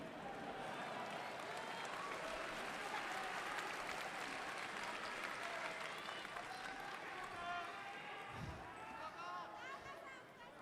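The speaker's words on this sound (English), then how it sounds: "The crowd obviously cheers back." Crowd at an MMA event cheering and applauding a fighter, a dense steady roar with clapping that stays level for the whole stretch, heard from within the arena with a single thump near the end.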